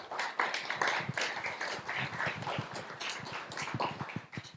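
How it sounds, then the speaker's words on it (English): An audience at an investor panel applauds, dense close clapping from many hands sustained for several seconds and tapering slightly at the end. "Applause."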